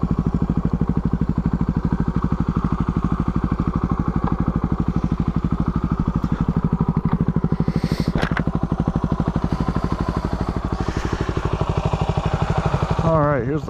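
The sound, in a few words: motorcycle pulling over and idling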